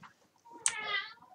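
A domestic cat gives one clear, fairly close meow with a sharp onset and a drawn-out, wavering tail, heard alone in a quiet room.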